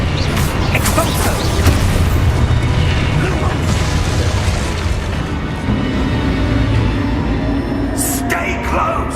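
Spell blasts in the Hogwarts Legacy video game, a dense, continuous wash of booming explosions and crashing bursts lasting several seconds, loud throughout with a sharp crackling hit near the end.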